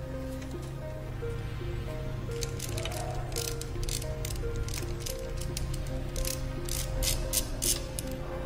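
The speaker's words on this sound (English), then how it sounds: "Now let's proceed to removing all the spark plugs." A hand ratchet clicks in quick rapid bursts while removing the spark plugs from a car engine for a cylinder compression test, close and crisp, with no talking.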